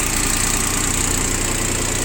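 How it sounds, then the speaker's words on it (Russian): Shibaura SD1803 three-cylinder diesel mini tractor idling close by, a steady, even engine drone with constant low rumble and no variation, running alone without any talk. "Краткий обзор мини-трактора Шибаура SD1803."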